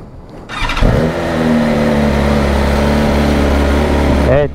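A 2023 BMW S1000 RR superbike engine cranks and fires after a brief starter whir, then settles into a loud, steady, throbbing idle close by before cutting off at the end.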